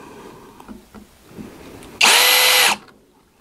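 A power drill bores into a thin aluminium license plate being mounted on a bike carrier, a loud, steady high whine lasting under a second that cuts off abruptly amid quiet background.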